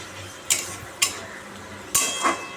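A utensil scrapes and clinks against a pan of rui fish curry cooking with onion, chilli, pepper, cumin and coriander powder, three or four sharp stirring knocks over a quiet simmer, no voices.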